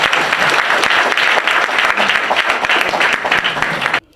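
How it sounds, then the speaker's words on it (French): A crowd at a political party ceremony claps in a tribute, producing thick, sustained applause at close range that stays loud throughout and then cuts off abruptly near the end. "Applaudissez-le."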